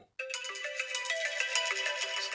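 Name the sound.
iPhone ringtone playing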